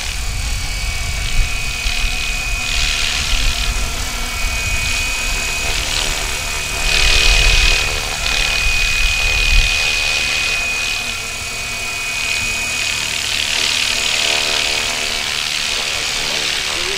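Fly Wing FW-450 RC helicopter hovering with a modified tail motor: a steady high motor whine and rotor buzz that swells and fades slightly, heard nearby over outdoor background.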